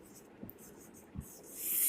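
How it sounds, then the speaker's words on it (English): Faint scratchy strokes of hand writing during a lecture on viruses, viroids and prions, two soft marks standing out over a quiet room, with a brief brighter hiss near the end. "Let me write"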